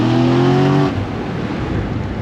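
A Nissan S13 convertible with a swapped 1.5JZ engine revs hard in a parking lot. A loud, close rising engine tone holds for about a second, then drops away into a rough idle rumble.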